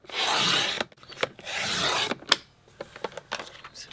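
Scissors cutting strips of shamrock-patterned paper for a scrapbook, with long rasping slices followed by shorter snips and clicks, close and clear.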